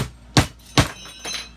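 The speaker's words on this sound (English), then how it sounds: "I'm just kind of hammering the parts all back together." A hammer strikes wooden chicken coop parts as they are knocked back together, two sharp loud blows about half a second apart, then a softer third knock, close by.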